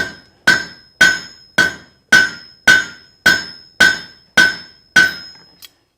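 Hot steel is hammered on the edge of an anvil while forging a meat hook: ten sharp, ringing blows at an even half-second rhythm, close and loud, each leaving a brief metallic ring, with a light tap at the end.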